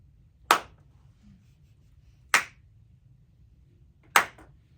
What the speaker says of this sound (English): This is the reaction that you want, the slow clap